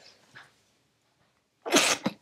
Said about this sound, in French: je suis désolée, je vais souvent éternuer